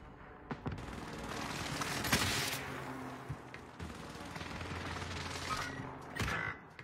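Bursts of video game gunfire crackle through a multiplayer match, with several volleys of rapid shots and a heavy booming impact ringing out over steady background noise.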